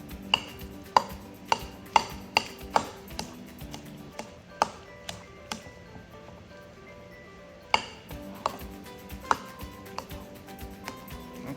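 Potatoes being chopped into small pieces with a knife, producing crisp, close taps on a cutting board in quick runs, with a brief pause before the rhythm resumes.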